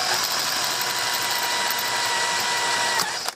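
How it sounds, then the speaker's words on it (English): A power drill with a 5.5 mm bit boring through the outer wall of a metal gas grill leg, a steady continuous whine that runs unbroken for about three seconds, then cuts off with a brief click as it stops. "first thing I'm going to do here is drill the outside part of the leg out with the clearance size for an M5"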